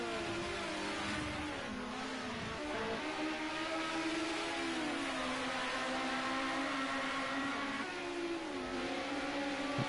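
Group A touring race cars scream down the Nordschleife straight in a close slipstreaming pack, several engines droning at high revs with shifting pitch. Continuous and moderately loud with no voices.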